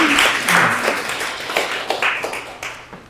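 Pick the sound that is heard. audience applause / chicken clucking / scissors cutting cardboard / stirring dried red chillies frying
audience applause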